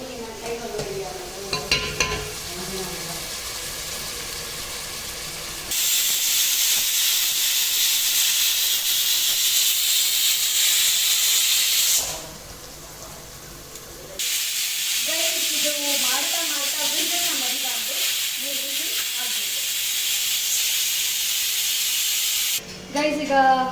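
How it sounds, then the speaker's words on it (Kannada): Hot oil sizzles and hisses steadily as onions fry in a pan for misal pav, loud and close with occasional spattering, with a voice talking briefly at the start and in the middle. "ಎಣ್ಣೆ ಸಿಡಿಯುತ್ತೆ."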